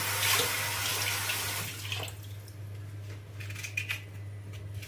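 Running tap water gushes as raw chicken is washed in a kitchen sink, splashing loudly at first and then thinning to softer trickles and drips over a steady low hum.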